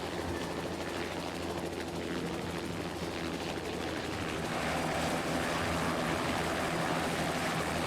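A Bell 407 helicopter flies steadily near Burbank Airport in the Prepar3D flight simulator, its continuous rotor and turbine drone loud and even throughout with no talk.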